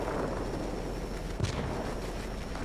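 Aircraft guns firing in the video game World of Warplanes, flying an Ilyushin IL-40P, a dense continuous rumbling barrage with a brief louder burst midway, no voices.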